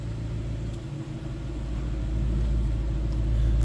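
A 2012 Ford Mustang GT Premium Convertible idles with a deep, throaty exhaust rumble that swells gradually louder toward the end, heard up close with no voices.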